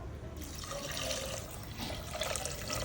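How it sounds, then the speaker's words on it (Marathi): Water is poured into a pan of soaked, sautéed dal for dal varan fale, producing a steady, close gush and splash that runs unbroken for a few seconds. "आता पाणी घालूयात."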